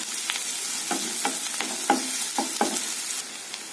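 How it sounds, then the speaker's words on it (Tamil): Onion and crushed garlic fry in a pan with a continuous sizzle, broken by a few sharp crackles and scraping stir strokes, close and alone with no talking. "வெங்காயம் பூண்டு நல்லா வதங்கிருச்சு."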